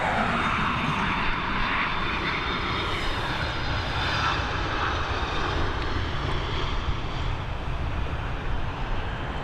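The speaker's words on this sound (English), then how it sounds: "This beautiful Boeing 767." A Boeing 767 jet at Dublin Airport, a steady loud broadband engine roar with wind-like hiss holding throughout, no talk.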